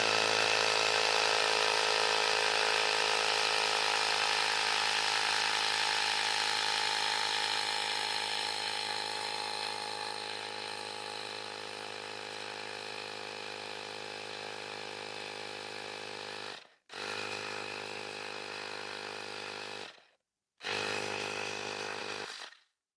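A Ryobi R18PI-0 cordless inflator runs loud and steady as it pumps up a bike tyre, its motor drone gradually easing in pitch before stopping twice in short breaks and restarting.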